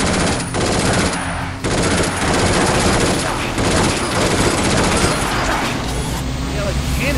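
Rapid cannon gunfire from an enemy car roars continuously in the Binary Domain sewer escape, loud sustained bursts layered with engine rumble and heavy impacts.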